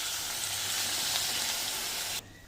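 Boiling hot water hits a hot pan of all-purpose gravy with a loud, close, hissing sizzle that holds steady for about two seconds, then cuts off abruptly.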